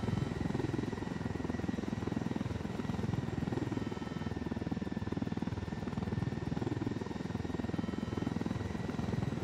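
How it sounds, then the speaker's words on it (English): A helicopter flies in the video game Ghost Recon Wildlands, its rotor beating as a steady, fairly quiet drone with no talk over it. "Really having a difficult time flying the helicopter"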